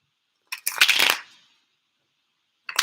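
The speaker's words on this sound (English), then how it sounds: "your cards don't want to shuffle" Tarot cards being shuffled for a fire-sign reading: a quick riffle of dense crackling card noise for about a second, then silence and a brief second burst of shuffling at the end, close and clear with no talk.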